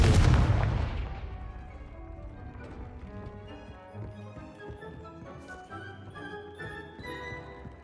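Confringo explosive spell going off in the video game Hogwarts Legacy: one loud, sharp blast at the start that decays into a ringing tail, followed by quieter tonal game effects and scattered impacts.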